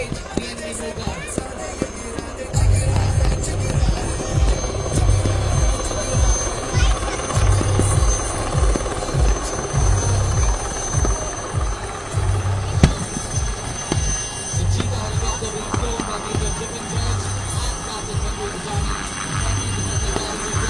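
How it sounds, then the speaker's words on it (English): Cheetah helicopter flying at an Eastern Command military tattoo in Kolkata, its steady loud rotor chop running throughout with crowd noise and a broadband roar behind, starting after a quieter opening. "the Cheetah helicopter flown by flawless pilots"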